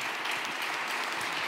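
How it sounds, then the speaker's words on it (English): A conference crowd applauds panelists, dense steady clapping from many hands, sustained and even throughout. "Could I have a nice round of applause for their panelists"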